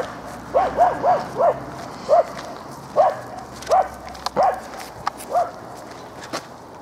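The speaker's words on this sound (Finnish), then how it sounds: "Antas vaan koira haukkua." A small floppy-eared dog barks in about nine short, evenly spaced yaps at moderate distance, with light footstep-like scuffs between them and no talking.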